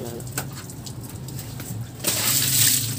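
Water splashes and pours over a Honda Click 125 scooter being washed, a louder rushing gush in the last second after softer background sounds and bird cooing.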